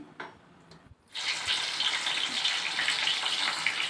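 Water pours steadily into a pot for Kuwaiti-style machboos rice, a continuous gushing splash that begins abruptly after a brief quiet moment and stays loud and close throughout.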